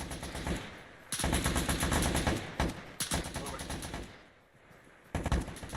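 Bursts of loud automatic machine-gun fire in the Arma 3 military game come in long rapid strings with short gaps between them, close and harsh, with radio-style voices talking faintly underneath.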